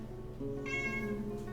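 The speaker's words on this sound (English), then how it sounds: "And there's my cat. You probably can hear her." A pet cat gives a single drawn-out, clear meow close to the microphone, rising in pitch and holding for about a second over a quiet room.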